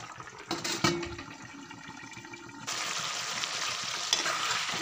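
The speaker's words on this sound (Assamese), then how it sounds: "এতিয়া ইয়াতে আলু ওলকবি সিজিবৰ কাৰণে গৰম পানী ঢালি দিছোঁ।" Hot water poured into a pot of mutton curry with potatoes and kohlrabi: a brief clatter, then a steady rushing pour and a loud hiss from the hot pan that keeps going. It is heard up close, with no talking.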